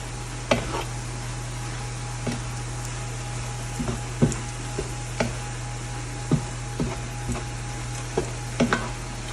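Mexican street corn and fresh cilantro get stirred in a large 18-inch cast iron skillet: a soft constant sizzle with a steady hum beneath it, broken by sharp clacks and scrapes of the utensil against the pan about once a second.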